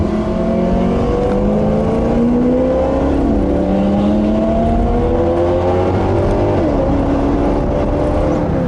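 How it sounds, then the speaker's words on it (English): A loud Maserati V8 engine drones steadily with rising and falling pitch as it shifts gears, booming and echoing as it drives through a tunnel. "Sounds absolutely awesome on the Maserati too. That V8 is mega."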